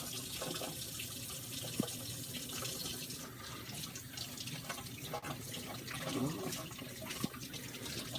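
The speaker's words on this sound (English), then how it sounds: "you want to rinse your hands off." Tap water runs steadily into a kitchen sink as hands are rinsed after handling raw meat during fajita cooking, a faint continuous splashing with slight fluctuations and occasional clinks.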